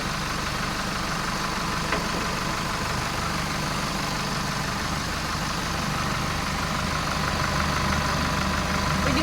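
A 2014 Chevrolet 4x4 with automatic transmission idles steadily, a continuous low engine rumble with faint knocking texture, close and unchanging throughout.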